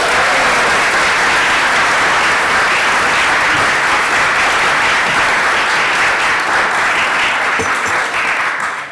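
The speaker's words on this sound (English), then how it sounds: "You can clap better than that" A press conference audience for Guardians of the Galaxy claps in loud, dense, sustained applause that fills the room evenly and fades slightly at the end.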